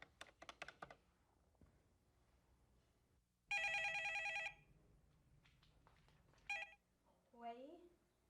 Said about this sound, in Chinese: 美惠，美惠，你电话